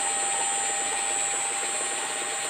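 Lathe spindle on pulleys driven by a VFD under Mach 3 control, with a slotted disc speed sensor, running at steady speed; a continuous mechanical whir with high tonal whine and a faint ratcheting texture, no talk.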